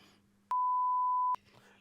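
A single steady censor beep, a pure electronic tone held for close to a second, loud and alone, cutting into quieter talk that sits on either side of it.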